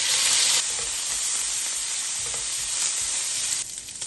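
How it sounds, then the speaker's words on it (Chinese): Diced meat sizzles in a hot wok, a loud, continuous frying hiss close up with faint stirring scrapes, easing slightly near the end, with no talk. "准备好的肉丁倒入锅中，"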